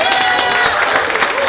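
Comedy club crowd at Gotham Comedy Club applauding and cheering, a dense, steady wash of clapping filling the room for a moment, with a voice faintly over it.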